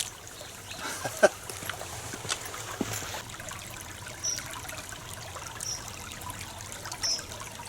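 A small brook trickling steadily over a shallow ford in a Peak District valley, a continuous outdoor wash of running water with a few faint louder splashes.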